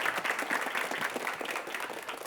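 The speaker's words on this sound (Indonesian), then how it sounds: "Kita berikan tepuk tangan yang paling meriah" A studio audience at a televised school quiz competition gives lively, sustained applause for the competing teams, an even wash of clapping at moderate volume with no voices over it.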